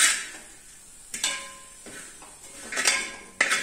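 A spoon stirs a sweet poha mixture of rice flakes and sugar in a pan, giving a few distinct metallic scrapes and clinks against the pan amid soft shuffling.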